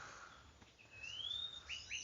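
Bird chirping faintly against a noisy background, a few thin rising and falling whistled notes in quick succession.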